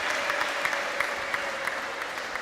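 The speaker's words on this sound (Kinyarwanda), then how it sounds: "Mumfashe tubaha amashyi yacu." An audience at a church gathering in Gikondo claps together in steady, moderately loud applause that carries on throughout with an even, dense patter and no voices on top.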